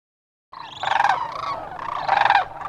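Birds calling outdoors on a sunny day, a close, loud run of rapid, warbling gobble-like calls in two or three rising bursts, heard alone without talk.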